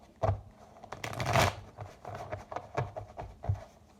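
Tarot cards shuffled by hand in quick repeated riffles and flutters, close and fairly loud, with brief pauses between bursts.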